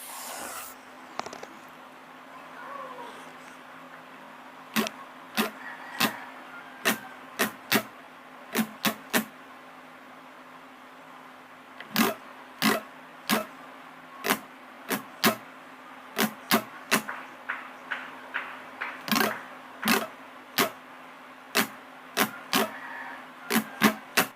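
Sharp, percussive guitar strums in a steady down-up rhythm, close and crisp, with brief pauses between phrases and no talking.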